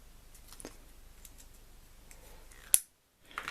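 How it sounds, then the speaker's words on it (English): Snipping plastic motor mounts off a small RC plane's frame: faint clicks and handling, then one sharp close scissor snip followed by brief silence and light rustling. "Snip these off from the original frame."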